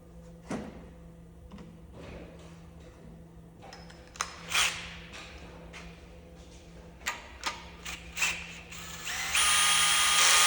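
A power tool gun running bolts down on an ISX engine, giving several short bursts with clicks and rattles in between and a loud sustained whir at the end.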